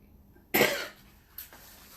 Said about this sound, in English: What the heck's going on with this cough?